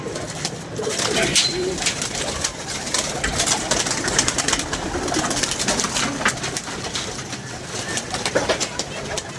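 Pigeons cooing nearby, soft repeated throaty calls over a busy rustling background with flutters and scratchy noises.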